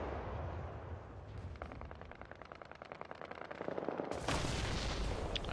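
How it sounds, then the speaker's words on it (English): Machine gun fire from a .50 and a .30 caliber in War Thunder, rapid evenly spaced rounds rattling at mid distance, then a loud blast swelling at the end. "But obviously we heard MG fire coming from over here"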